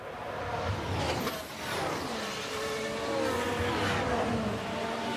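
Formula 1 cars, including a Red Bull and a Lotus, leaving the pits in the F1 Manager 2013 video game at the Belgian Grand Prix, with engines whining and rising in pitch as they pass at moderate distance.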